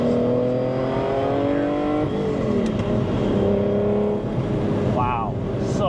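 A 1984 Lamborghini Countach LP500 S engine on the road, a loud, close, rich tone that holds steady, dips at a gear change, then climbs again.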